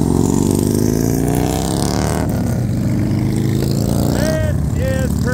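Motorcycles at the Sturgis rally in Belle Fourche roar past one after another, a loud continuous rumble of engines with rising and falling revs close by, a voice speaking briefly over the traffic.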